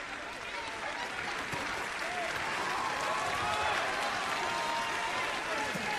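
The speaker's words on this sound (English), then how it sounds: "Crowd getting behind their man." Boxing crowd at a Marcos Nader vs Roberto Santos fight cheering and applauding steadily throughout, a dense, continuous roar of clapping and voices at moderate distance with faint talk mixed in.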